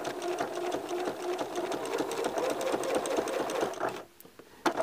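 A sewing machine stitches through quilted fabric along a heart-shaped line, its needle chattering in a steady fast run with a brief pause near the end before a final burst.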